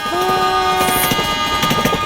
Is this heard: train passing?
yes